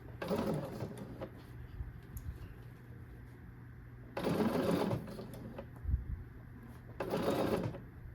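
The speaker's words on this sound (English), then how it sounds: "Take a few back stitches and then continue sewing all the way up to the top." A sewing machine stitches an invisible zipper in three separate runs, each a quick rattling burst of needle strokes, with quiet pauses between them.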